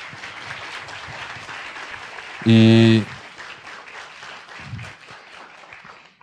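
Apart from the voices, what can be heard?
audience applause for professor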